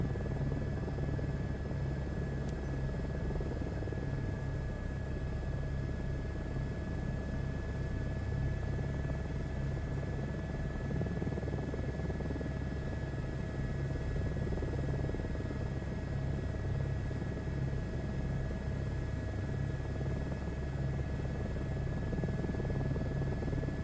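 Helicopter in Microsoft Flight Simulator 2024 with a constant droning rotor and engine hum and a steady buzzing whine, unbroken and close for the whole stretch.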